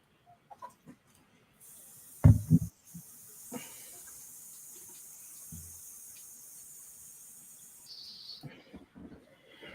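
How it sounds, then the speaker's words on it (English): An airbrush being flushed clean during bust painting, giving a steady hiss of spraying air for several seconds, with a few short louder bursts and clicks near the start and handling noises toward the end. "So clean it out of the airbrush right away."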